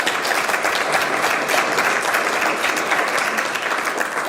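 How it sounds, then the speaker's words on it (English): An audience at an award event applauds in a steady, dense wash of clapping that holds at an even, fairly loud level throughout, with no voices standing out. "can we give them a round of applause"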